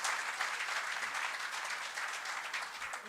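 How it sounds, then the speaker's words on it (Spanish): A steady, fairly distant wash of applause fills the hall for students at a documentary screening and panel presentation, continuous clapping with no voices over it. "Un fuerte aplauso para esos estudiantes."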